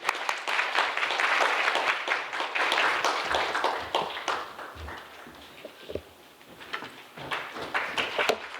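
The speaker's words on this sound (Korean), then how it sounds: "뜨거운 박수로 좀 맞아주십시오" Warm, sustained audience applause at a beauty industry forum, dense clapping filling the room and gradually thinning out toward the end.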